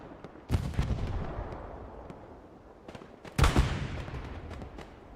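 Bombing run explosions in the World War II shooter Hell Let Loose, with two heavy booming blasts a few seconds apart, each trailing into a long rumbling decay over steady battlefield noise.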